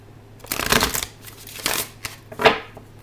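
Tarot cards being shuffled in close, crisp riffling bursts, three or four quick flutters separated by short pauses, with no talk.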